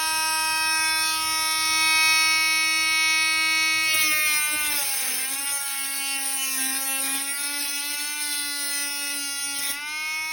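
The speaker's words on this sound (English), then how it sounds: "just grind with this little tool right here" A small hand-held grinding tool works on a 1962 Chevy Impala during spotlight installation, giving a loud, steady high-pitched whine that dips and wavers in pitch as it bites into the metal, continuous and close.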